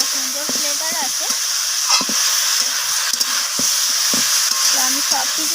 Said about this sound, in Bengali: তো আমি সব কিছু সবজি এইভাবে কষিয়ে নিচ্ছি, সবজি থেকে কাঁচা গন্ধটা চলে যাওয়া পর্যন্ত